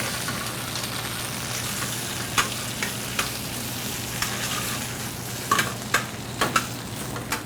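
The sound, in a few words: white wine added to hot pan, sizzling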